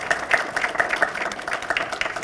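A short, sparse burst of hand clapping from a small audience at a school district Teacher of the Year ceremony, with individual claps distinct rather than blended.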